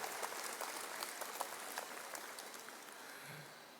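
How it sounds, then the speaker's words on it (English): A university convocation audience applauds a speaker, the clapping a soft, distant, evenly spread patter that holds steady and fades slightly toward the end. "Let's give him a stronger round of applause, man."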